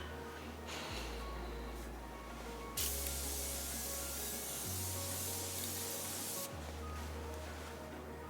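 A single long hiss of makeup setting spray, several seconds of close, steady misting that cuts off abruptly, over a low background hum.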